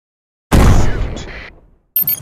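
A tank cannon fires a single shot in the mobile game Tank Stars, a sudden loud blast that trails off over about a second, followed by a brief bright burst of game effects.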